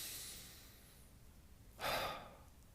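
A single deep inhale during a breathing meditation, a short, soft rushing breath near the end after quiet, airy exhaling.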